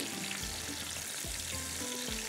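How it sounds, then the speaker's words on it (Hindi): Pieces frying in oil for chicken qeema biryani, a faint, steady sizzle with a few soft low thumps of pieces being moved in the pan. "थोड़ा सा इसको हम फ्राई करके निकालते हैं"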